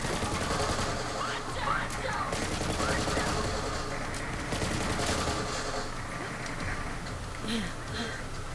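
Sustained bursts of fire from the KYB's Worth legendary weapon in Borderlands 3, dense rattling shots mixed with squawking enemy noises and other game sounds, a voice occasionally speaking over it.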